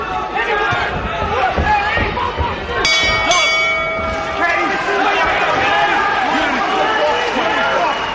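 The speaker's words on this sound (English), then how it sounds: "The bell to end that round, the 5th, didn't come a moment too soon for Kerry Hope." A boxing ring bell rings out at the end of the fifth round of a professional bout, a bright clang with a lingering ring amid crowd noise and a commentator talking.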